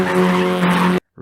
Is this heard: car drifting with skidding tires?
yes